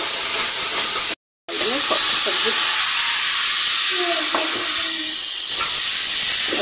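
Masala of red chilli powder, garlic paste and salt frying in a pan, a loud steady hiss with faint scraping stirs, briefly cut by a short dropout.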